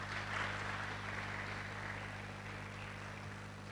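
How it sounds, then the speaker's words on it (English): An audience applauds a panel at the 2021 DevFest conference, heard as faint, continuous hissing claps over a low electrical hum. "Ladies and gentlemen, a round of applause for the panel."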